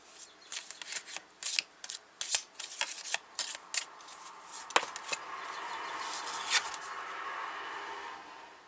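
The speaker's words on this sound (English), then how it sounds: "Let's see if we can get anything from these cards here. They're hard to shuffle" Tarot cards are shuffled close up in quick irregular riffles and snaps, quiet and crisp, settling into a softer continuous rustle toward the end.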